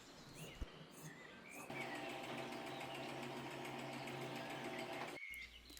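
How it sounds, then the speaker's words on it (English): A sewing machine stitches naturally dyed quilt blocks together, a steady whirring run lasting about three and a half seconds after a quiet start, with faint bird chirps in the background and no talking. "I sew those blocks together"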